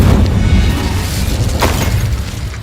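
Incendio fire spell in the Hogwarts Legacy video game: a loud, deep boom that fades into a rumbling, crackling roar, with a brief burst near the middle and no speech.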